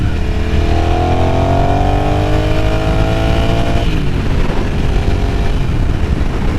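A Ducati Sport Classic 1000 motorcycle accelerates hard, its engine note climbing steadily in pitch through a gear before dropping at a shift and pulling again, loud, close and continuous.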